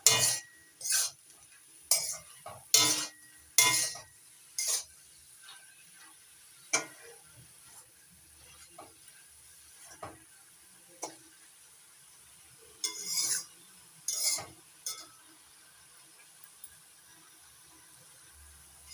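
Prawns being stirred into spinach in a pan, with a run of sharp metallic clinks and taps from a spoon against the pan, irregular and close, separated by quiet gaps.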